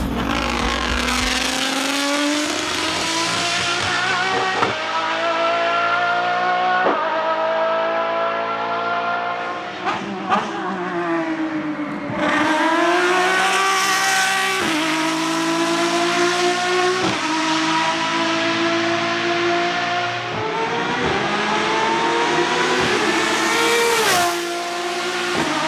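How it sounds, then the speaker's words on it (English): Lamborghini track-only car engine revving hard, a loud, close, high-pitched wail that climbs and drops through repeated gear changes and rev sweeps, with sharp crackles in between and no talk. "here's some clips of the car IRL making noises no other Lambo makes."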